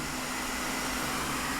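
A Creality K1 3D printer running a high-speed print gives off a continuous broadband whirring hum of fans and moving motors, steady and close, with no talking.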